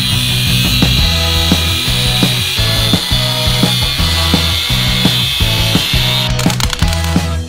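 Metal being cut for the link mounts on an off-road vehicle build: a loud, steady machine whine broken by regular rhythmic cutting strokes, close by and with no speech.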